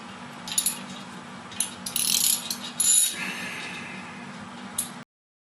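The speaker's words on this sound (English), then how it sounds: "I don't know why I'm using this stupid ratchet handle." A hand ratchet handle turns during the wall mounting of an LG 4K TV, giving short bursts of rapid metallic clicking in separate spurts with pauses between them, close and clear, with a sigh or breath now and then.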